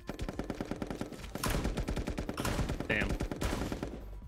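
Rapid SMG fire in the party video game Pummel Party, quick repeated bursts of clattering shots at moderate volume, mixed with game effects across the whole stretch.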